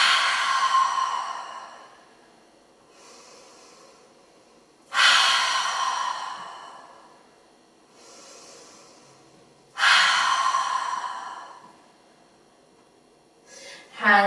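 Three rounds of deep yogic pranayama breathing: each begins with a slow inhale, then a loud, long sighing exhale, spaced about five seconds apart and heard close and alone in a quiet room.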